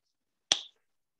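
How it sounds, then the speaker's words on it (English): A single sharp clap of mint leaves between the hands, close and crisp, with a short decay in otherwise silent surroundings. "When you clap the mint, you're releasing those beautiful oils and you get this great smell."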